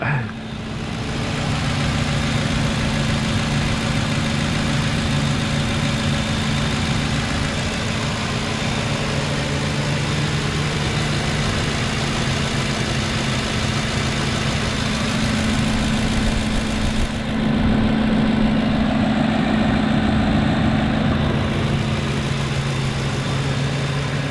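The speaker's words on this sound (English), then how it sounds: "I'm going to go and let you listen to the motor" A 2009 Ford F250 XL crew cab pickup with a 5.4 liter Triton V8 idles steadily, a deep, even engine rumble heard close up throughout with a slight shift in tone partway through and no talking.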